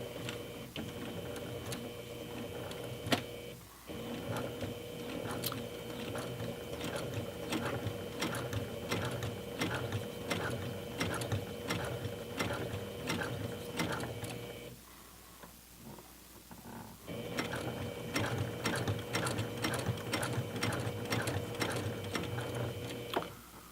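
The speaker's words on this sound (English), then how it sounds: "Just sew right along the edge of it, nice and evenly." A sewing machine stitches along the edge of a makeup bag lining in a steady, rapid mechanical patter, running close and continuously, pausing briefly near the middle before starting up again.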